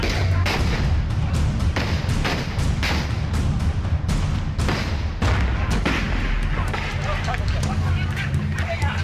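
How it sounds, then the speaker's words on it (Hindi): Country-made bombs bursting and gunfire near a block pramukh election nomination site in Sitapur, a dense run of sharp thuds and cracks repeating every second or so over continuous crowd hubbub and shouting voices. "नामांकन स्थल के पास ही ब्लॉक प्रमुख के चुनाव में सीतापुर में बम फूट रहे हैं"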